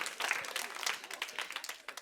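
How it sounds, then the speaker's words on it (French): An indoor audience applauds at an evening show, a dense patter of many hands clapping close by. "on peut les applaudir parce qu'ils ont le courage"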